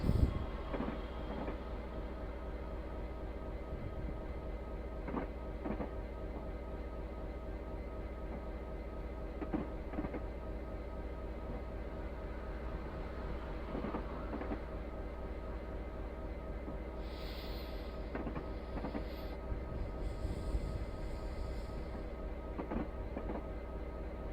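Class 66 diesel locomotive running from York toward Newcastle in Train Simulator Classic, a steady low engine drone with faint rhythmic rail clicks, continuous and even, with a brief hiss partway through and no talk.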